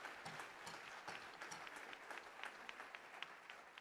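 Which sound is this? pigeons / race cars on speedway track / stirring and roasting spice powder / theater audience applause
theater audience applause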